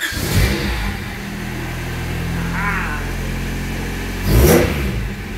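A car engine starts and is revved for the first time, a low steady rumble that rises into a loud rev near the end, close by.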